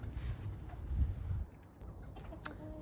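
Chickens cluck softly and intermittently, with a few short higher calls, against a quiet background.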